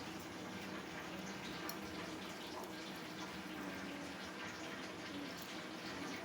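Water from a small glass poured into eggplant pakora batter, a steady close splashing and trickling that runs unbroken with no voices.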